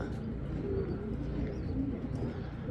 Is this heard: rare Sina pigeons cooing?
yes